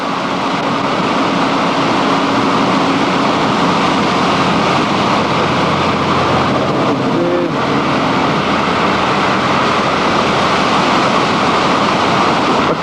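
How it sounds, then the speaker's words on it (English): Flooding San Antonio Creek below the Highway 33 bridge, swollen water carrying heavy debris, roars as a loud, steady, unbroken rush throughout. "Big debris flow, lots of debris in the water."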